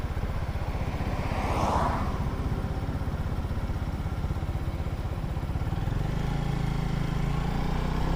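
A small Lifan motorcycle engine runs steadily nearby with an even rumble, its tone dropping slightly near the end.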